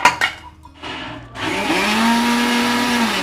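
A mixer grinder grinding coconut starts after a few brief knocks and runs loud and steady, its motor whirring with a coarse grinding texture.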